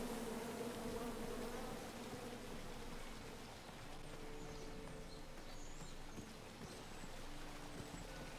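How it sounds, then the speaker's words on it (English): Bees drone steadily in a King's Quest game scene, a faint continuous buzz layered over a soft, rain-like ambient wash with no talking. "Come at me, bees!"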